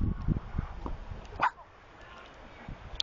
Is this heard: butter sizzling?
no